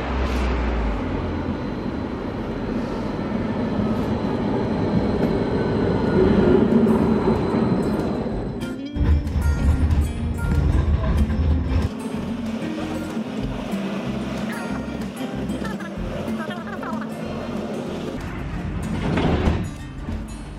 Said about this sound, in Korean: 트램 정류장 저거입니다.